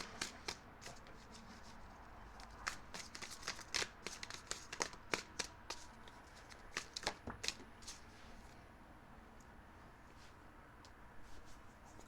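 Tarot cards are shuffled by hand, quiet rapid riffling and crisp slaps arriving in irregular bursts at close range, with no talking over them.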